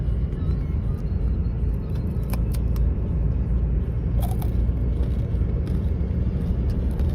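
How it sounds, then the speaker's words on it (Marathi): A car cruising on the Mumbai–Delhi Expressway, heard from inside as a steady, loud low road and engine rumble, with a few faint clicks and rattles over the top and no talking. "पप्पा गाडी चालवत आपले"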